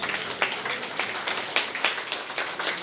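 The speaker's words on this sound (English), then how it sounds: "give yourselves a round of applause" Closing-ceremony audience at a conference plenary standing to applaud themselves, a soft, continuous patter of many hands with a few sharper claps, heard from a distance.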